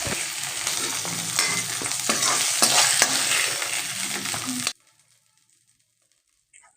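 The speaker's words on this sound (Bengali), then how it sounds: "আজকে এই শিমগুলোকে কিন্তু খুব বেশি ভাজার প্রয়োজন নেই" Flat beans sizzle and fry in a pan while being stirred, a steady crackling hiss with scraping strokes that stops abruptly into silence.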